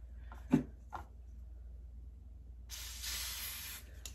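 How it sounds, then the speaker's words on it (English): A spray bottle mists a kinky curly lace wig, one long, steady hiss of spray after a couple of small handling taps, heard close over a quiet background hum. "I'm just gonna take this, spray it down there"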